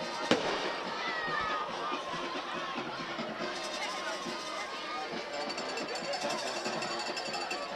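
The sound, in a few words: fireworks after a touchdown at football game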